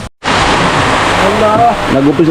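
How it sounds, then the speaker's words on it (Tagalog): Rain begins falling in a steady, dense hiss that fills the whole clip after a brief silent gap, with faint voices murmuring underneath toward the end. "Nag-umpisa na po ang ulan."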